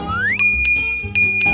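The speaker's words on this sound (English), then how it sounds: "We can use this bell." A small bell rings in a cartoon setting with bright, clear dings, a rising tone into a sustained ring, then a second strike about a second later, close and loud.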